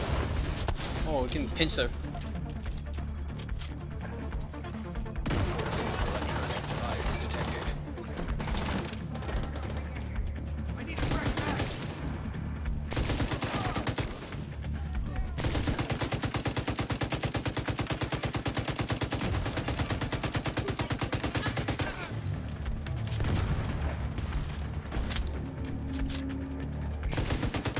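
Dense, continuous automatic gunfire from The Division 2 combat, rattling machine-gun bursts layered over each other for the whole stretch, with players talking over the shooting.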